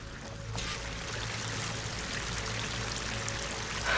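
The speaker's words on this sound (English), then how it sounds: "That waterfall must be coming from somewhere." A waterfall in Horizon Forbidden West gives a steady, unbroken rush of pouring water, holding even throughout and swelling slightly at the very end.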